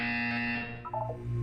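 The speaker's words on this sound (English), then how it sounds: "You will hear a buzzer." A buzzer tone sounds in the video game Portal, a steady sustained electronic drone with a low hum that dips briefly and returns, loud and alone with no talking.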